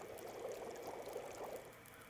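Water boiling in The Long Dark video game, a steady bubbling and rushing wash that holds at an even level throughout, with no talk over it.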